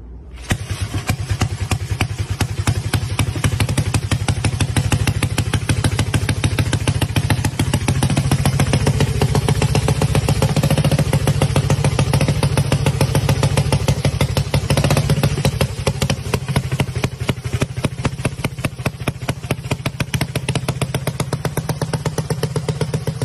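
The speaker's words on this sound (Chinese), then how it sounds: "来看一辆拉风的履带摩托车，来自法国的雪尼尔毛毛虫" An over-80-year-old French Chenillette tracked motorcycle runs its engine in a loud, steady, rapid clattering putter that holds constant throughout, close by with no voices.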